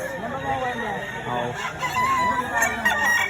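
A gamecock crows at a rooster auction in Lipa, heard under continuous talk from a man calling out to buyers amid the crowd noise.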